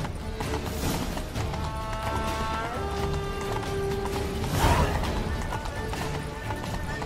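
Horse hooves clip-clopping at a steady riding pace in The Witcher 3: Blood and Wine, rhythmic and close, with wind and game ambience around them and a brief crash-like burst midway.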